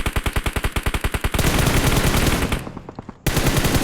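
Rapid automatic gunfire in a shooting video game, a loud, evenly spaced burst of shots that turns into a dense continuous roar of fire, briefly drops away, then resumes.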